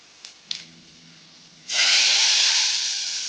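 Turmeric and red chili powder drop into hot oil for a tempering, starting with a couple of faint taps before a sudden loud, close sizzle bursts out and hisses steadily to the end.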